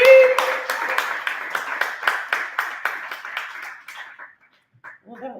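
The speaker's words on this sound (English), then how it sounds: "Let's have some super applause for Beth Marie." A small poetry open mic audience claps in a thin, sparse round of individual claps that thins out and stops after about four seconds, followed by a brief voice.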